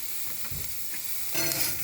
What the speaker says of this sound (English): might as well just cook a tiny little bit in the frying pan